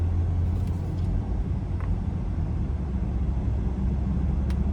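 A 2025 Mercedes-Benz GLS 450 cruising in eco mode, heard from inside as a steady low engine and road rumble at moderate level, with a faint hum throughout.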